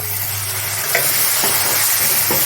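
Spices being sautéed with a little water in a pan for Dhaba-style palak paneer, giving a steady close sizzle with a few soft stirring scrapes and no talk.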